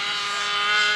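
A heavily loaded model airplane engine and propeller at an SAE Aero Design competition whine in a high, strained, continuous drone, heard alone and fairly loud for about a second.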